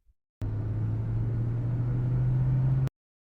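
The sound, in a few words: car driving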